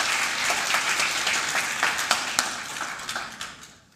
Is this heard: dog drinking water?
no